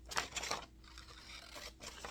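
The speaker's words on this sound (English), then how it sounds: "My scissors are making an awful noise." Scissors snipping through paper while rolling paper tube beads, a quiet close-up series of crisp cuts with a faint squeaking scrape between them.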